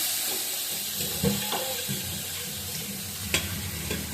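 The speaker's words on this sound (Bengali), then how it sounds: "জলটা পড়লে সোচ্ছাত আওয়াজ হয়" Water dropping into a hot pan while cooking parathas, a steady close sizzle running throughout with a few sharper spits and clatters, no voices.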